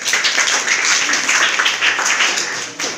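A class of students gives a burst of applause for two classmates, about three seconds of dense, loud clapping with no pause.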